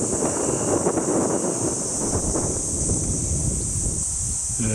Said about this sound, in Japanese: 強烈なアゲンストが吹いておりまして